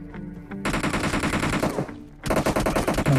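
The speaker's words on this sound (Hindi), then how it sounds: "तभी मेरे ऊपर इधर से फायरिंग होता है" Automatic gunfire in the mobile game Battlegrounds Mobile India, loud rapid bursts of shots firing in two long strings with a brief gap between them.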